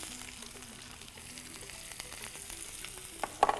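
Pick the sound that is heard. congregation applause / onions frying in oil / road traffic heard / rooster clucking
onions frying in oil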